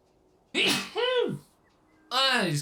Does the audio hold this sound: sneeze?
yes